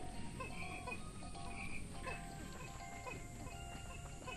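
Wollywog frog creature in the video game Pikmin 2 gives soft repeated croaks over a continuous quiet game ambience with faint ticking.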